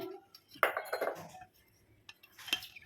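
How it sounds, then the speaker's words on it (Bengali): Dishes clinking as a bowl is greased with oil, with a few sharp clinks and knocks of metal or glass followed by softer rubbing and shuffling sounds, close and fairly quiet. "আমি বাটিতে একটু করে তেল দিয়ে দিচ্ছি, যাতে উঠতে সুবিধা হয়"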